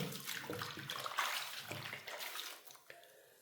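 Water splashes and sloshes as Yarn Art Forza yarn is washed by hand in a basin with detergent powder, with close, irregular swishing that fades toward quiet at the end.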